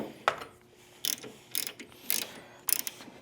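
A ratchet with a 5/8 socket breaks loose the brake arm on a Harley-Davidson: five sharp, close metallic clicking bursts at a steady spaced rhythm, heard alone.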